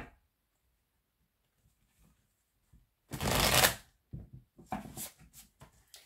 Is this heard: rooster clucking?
no